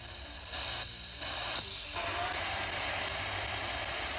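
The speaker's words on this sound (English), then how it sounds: "So you'll have a lot of loud static with words coming in now and then." Ghost box radio sweeping the FM band, a loud continuous wash of hiss and static with brief choppy gaps as stations flick past, alone without talk.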